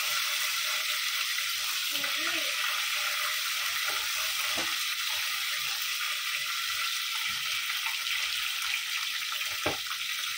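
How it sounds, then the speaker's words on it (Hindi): Fenugreek seeds crackle in hot oil, a dense, constant hiss and sizzle heard close and loud, with faint scattered pops and thumps and no talking. "अभी ये मेथी दाना है ना, अच्छे से तरकने देंगे इसको"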